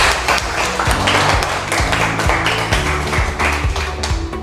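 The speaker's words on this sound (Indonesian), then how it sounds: "tepuk tangan untuk Yuni dulu" An audience in a classroom gives a short round of applause for a student named Yuni, a lively patter of clapping hands with some louder individual claps close by, sustained for several seconds with no talk.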